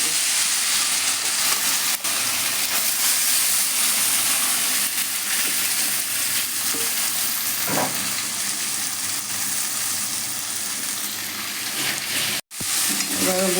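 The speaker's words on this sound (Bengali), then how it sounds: "কড়াইয়ে তেলটা গরম হয়ে গেছে, আর মাছটাকে আমি একসাথে সুন্দর করে মেখে নিয়েছি। মেখে এবারে আমি এটাকে বসিয়ে দেবো।" Marinated fish frying in hot oil in a wok, a steady loud sizzle running throughout with faint stirring scrapes and a brief clatter near the end; no talking.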